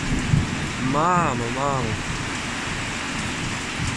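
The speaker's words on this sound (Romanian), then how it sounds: "Ia uitați cum plouă și cum tună!" Heavy rain pours down outdoors in a dense, continuous wash of noise, while a voice briefly calls out over it.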